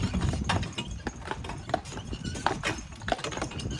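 A carriage horse named Jack clip-clops steadily through downtown Lunenburg on a guided tour, hooves striking pavement in a regular close rhythm over faint street background.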